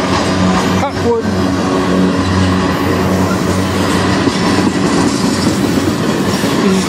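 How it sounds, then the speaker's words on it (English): A long manifest freight train hauled by CN, KCS and BNSF locomotives rolls past close by on the Strathroy Sub, with a loud, continuous rumble of wheels and rattling cars and rhythmic clickety-clack throughout. "This train is usually a pretty long train."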